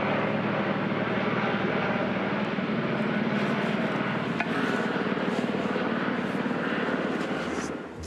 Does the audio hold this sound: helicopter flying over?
yes